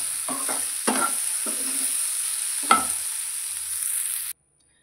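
Okra (bhindi) cooking in a pan, a steady bright sizzle of frying under a few distinct scraping stirs with a spatula, ending in abrupt silence.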